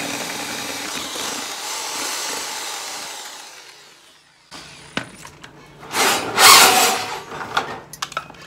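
A power drill boring a 3/8 inch hole through a mower wheel on a Troy-Bilt mud mower, a loud whine that trails off, then renewed grinding and bursts of cutting noise.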